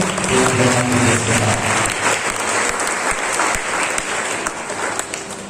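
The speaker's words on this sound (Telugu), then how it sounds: "గట్టిగా చప్పట్లు కొట్టి" A church congregation claps loudly at a Mariyamma festival Mass in Kadapa district, dense sustained applause filling the whole stretch and easing slightly toward the end.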